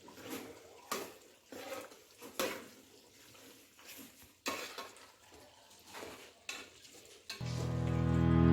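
Rhythmic, close stirring scrapes of a spoon through mutton curry with black pepper in a pan, each stroke a distinct swish over a low simmer, before loud music swells in at the end.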